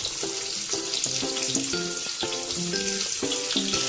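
Garlic-ginger paste, peas, onion and tomato frying in a pan for pulav, giving a steady hissing sizzle throughout, with a repeating melodic tonal pattern underneath.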